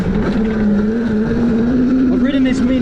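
A Tuttio Soleil mini dirt bike runs off-road on a small, tight track, its engine a steady, close buzzing drone that stays loud throughout, with a slight rise in pitch near the end.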